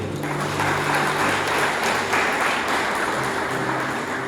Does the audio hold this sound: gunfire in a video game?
no